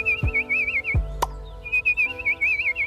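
Caged birds at a city zoo in a Simpsons cartoon whistle a warbling tune, a repeated trilling whistle line that stops for a moment, with a sharp synthetic chirp in the middle and soft musical tones underneath.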